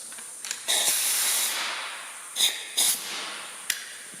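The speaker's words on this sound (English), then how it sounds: "My air hose." Compressed air hisses from an air hose during timing cover removal on an engine, one long spraying burst followed by several short, sharp puffs close by, with no talk.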